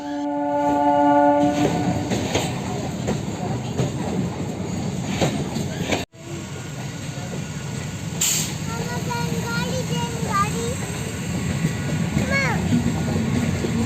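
Continuous rumble and clatter of a moving train fills the clip, with voices talking over it and a brief dropout midway.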